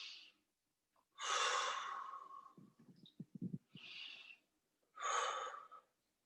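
Slow, deep breaths in and out during a calming breathing exercise, each long airy inhale or exhale separated by quiet pauses, with a few short breathy catches in between.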